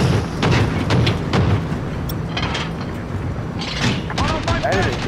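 Deep booming blasts from an air support strike in a video game, heavy explosions rolling through the clip with thuds and crackle, loud and dense, with players talking over them.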